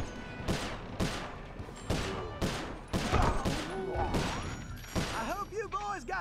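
Gunfire from a weapon in the video game Sly Cooper: Thieves in Time, during a jailbreak stage: roughly seven loud, sharp shots fire in an uneven burst, with rising chirpy game effects trailing at the end.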